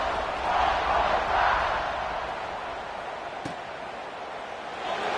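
Stadium crowd at a Coastal Carolina vs Georgia Southern college football game, a broad distant roar that swells and eases, with a sharp thud midway and commentary faintly underneath.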